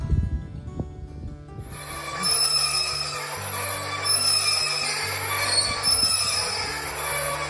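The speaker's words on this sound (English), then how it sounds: "That's the sound of a broken gearbox on a windmill." A windmill with a broken gearbox grinding and squealing, sustained high metallic screeches and rubbing over a low droning hum, steady and fairly close.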